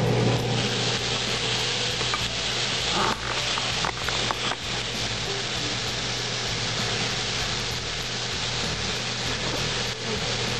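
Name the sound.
soy sauce added to low-carb fried rice sizzling in pan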